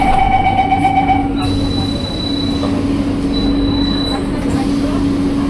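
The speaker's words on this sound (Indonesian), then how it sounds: "Oke, kereta kita berangkat." An LRT Jabodebek light rail train pulls away from the platform, loud steady rolling rumble with tonal motor whine and electronic beeps at the start, heard from inside the car.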